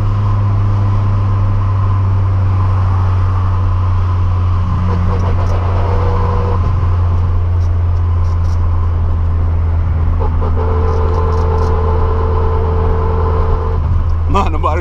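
A turbocharged VW Gol TSI under hard acceleration, heard loud from inside the car: a heavy engine drone overlaid by a high, steady gearbox whine that rises and falls with speed.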